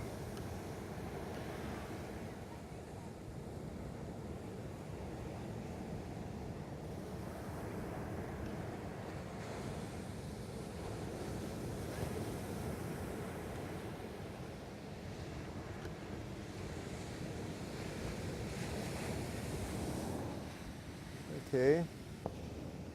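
Ocean waves at Gray Whale Cove wash steadily and close by, a broad continuous surf roar mixed with wind buffeting the microphone, holding an even level for the whole stretch with only a brief sharper sound near the end.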